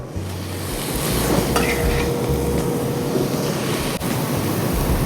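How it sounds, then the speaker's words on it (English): Mushrooms cooking in a hot pan for beef Wellington, a steady broad sizzle with occasional stirring scrapes, close and fairly loud throughout. "we're just gonna continue to cook these. So we got our mushrooms back in the pan."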